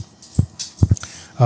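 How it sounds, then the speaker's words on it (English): An 11-week-old puppy gives a few short whimpering yips with brief gaps between them, fairly close, ending in a longer whine. "He's a puppy. He's 11 weeks old."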